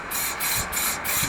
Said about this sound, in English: Now, just spray everything you can see